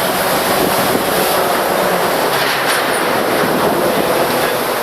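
A steady, loud roar of a Chicago commuter train rolling close by across the upper deck of the double-decker Wells Street Bridge, with a continuous rumble and faint rhythmic clatter of wheels throughout, no voices.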